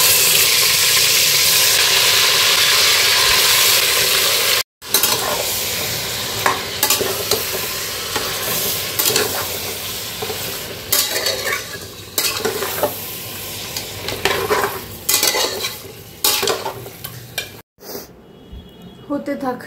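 Mutton cooks for biryani with bay leaf, cardamom, cinnamon, mace, nutmeg and peppercorns, giving a loud steady sizzle at first, then a run of scraping stirs and clinks, with some talk in the background.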